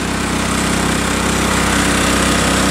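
A dredge engine on a pontoon roars steadily at full throttle, a dense unbroken mechanical drone with no voices over it.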